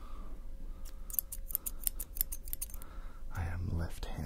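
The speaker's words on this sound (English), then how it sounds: "Now I'll just do some finishing touches with these scissors." Quick metallic snips of scissors cutting hair, about a dozen crisp clicks in an uneven rhythm close by, followed by a brief burst of soft, muffled noise.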